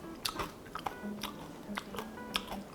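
Crisp, crunchy bites into candied corn (oksusu bbasi), a string of sharp close-up crunches at an irregular chewing rhythm, heard alone without talk.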